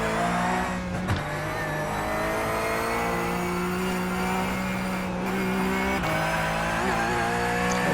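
A Porsche Cup race car drives on track at Virginia International Raceway, its engine droning loud and steady with rising and falling pitch through shifts and corners, plus faint tire scrub.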